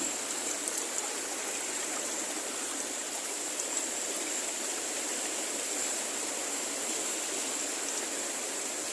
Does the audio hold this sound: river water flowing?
yes